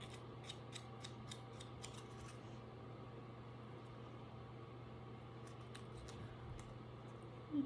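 Scissors snip a nail polish strip while trimming it to fit a small nail bed, giving a few quick, faint clicks early on over a steady low hum of background noise.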